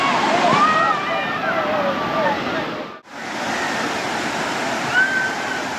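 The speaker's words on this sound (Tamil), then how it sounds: "மேலே தண்ணி வருது அப்படியே மேலேருந்து கீழே ஊற்றுது" A waterfall pours and splashes continuously, a loud steady rush broken by a brief dip midway, with faint voices and chirps over it.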